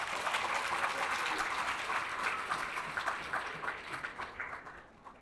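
An audience at a mentoring program graduation celebration applauds a speaker, sustained clapping from a crowd that gradually thins and fades toward the end.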